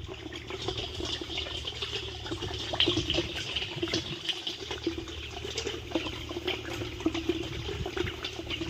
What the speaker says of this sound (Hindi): पानी की आवाज़ आ रही है आपको आवाज़ सुन पा रहे होंगे